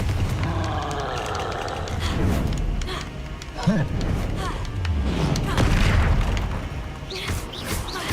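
Fire-spell explosions in the video game Hogwarts Legacy, repeated booming blasts and crashes over a busy battle soundscape, with a voice calling out spell names.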